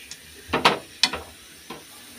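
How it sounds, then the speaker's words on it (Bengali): Meat frying in a pan gives a few short sizzling bursts and scraping stirs, close and fairly quiet, with pauses in between. "এই যে দেখো আমার কিন্তু মাংসটা ভাজা হয়ে গেছে"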